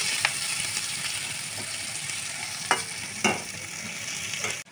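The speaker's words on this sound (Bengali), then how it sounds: "আলুগুলো পেঁয়াজের সঙ্গে ভাজা ভাজা করে নেব" Potatoes and onions fry in very hot oil with a steady close sizzle, broken by a few sharp clinks of stirring.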